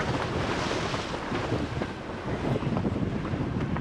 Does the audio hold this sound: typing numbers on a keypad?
no